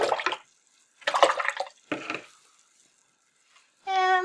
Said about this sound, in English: So we'll rinse that brush.